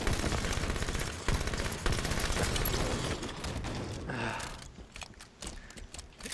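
Halo 5 gunfire in a multiplayer match: fast, loud rattling bursts of automatic shots for about three seconds, then sparser, fainter shots and game effects trailing off.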